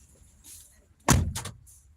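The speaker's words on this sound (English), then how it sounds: "Let me close the door." A door is pushed shut with a sharp thud and a short rattling follow-up, loud and close, after a moment of quiet room noise.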